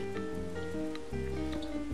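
Rain falls steadily in the video game Minecraft, a soft continuous patter with a few scattered droplet ticks over low, sustained background tones.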